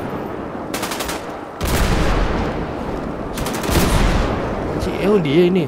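Automatic gunfire in GTA 5 zombie survival: loud rapid bursts of shots in several long volleys, close and dense, with a player speaking briefly over the end.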